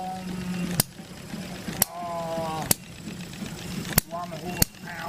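Small model hit-and-miss engine about six inches high running on LPG: five sharp, irregularly spaced firing clicks with mechanical clatter in between, close up, while people talk over it.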